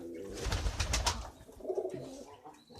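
A female pigeon coos close by, a soft, throaty call that swells and fades over a few seconds against low background rustling, with no one speaking.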